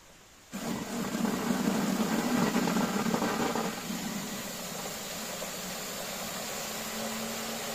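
A Turgo hydro generator turbine spins up with a steady mechanical whir and water rush, loudest for the first few seconds and then settling into a slightly quieter, constant running hum.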